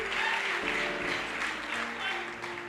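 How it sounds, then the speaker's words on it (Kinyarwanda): A church congregation claps together in steady, dense applause that fills the room, with a voice talking over it. "Mwongere munyemerere mukomere Imana amashyi menshi cyane"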